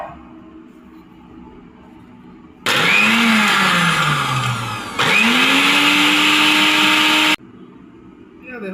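An electric blender grinds pepper for homemade mayonnaise in two loud, close bursts, its motor whine dipping and rising within each run while quiet talk and room noise fill the gaps before and after.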